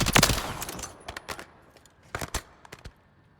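An assault rifle in the video game Warzone fires in quick automatic bursts, a long volley at the start, then shorter strings of rapid shots, fairly close and crisp, with no voices.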